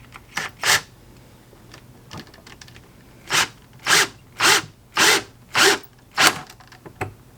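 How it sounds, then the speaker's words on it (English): Screws for a GRS jeweler's bench pin being driven by hand, several separate short scraping, squeaky turns in an uneven rhythm, close and fairly loud against a quiet room. "we're going to go ahead and screw those in"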